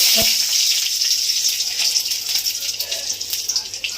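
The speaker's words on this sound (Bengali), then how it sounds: "গরম হয়ে গেছে, নেবো কটা কালো জিরে, ফোড়ন দেবো, এই রসুন দেবো।" Nigella seeds and garlic dropped into hot oil for tempering give a brief sharp crackle followed by a steady hissing sizzle, close by and moderately loud, with some faint kitchen clatter.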